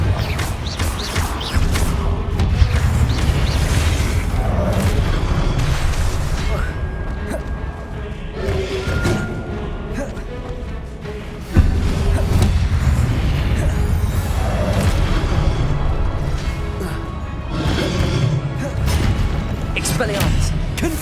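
Confringo blasting-curse explosions in the Hogwarts Legacy video game boom and burst repeatedly and loudly over dense combat noise, with a voice casting spells throughout.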